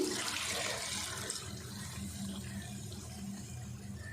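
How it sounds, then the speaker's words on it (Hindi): Water poured from a cup into a pan of spiced, fried potatoes and peas, a steady splashing, hissing stream that holds close and fairly loud throughout with no talking. "अब इसमें डाल देते हैं पानी।"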